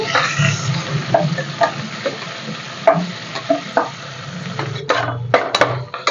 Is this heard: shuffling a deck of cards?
no